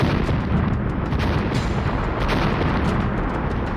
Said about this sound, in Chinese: 欢呼声瞬间被爆炸声淹没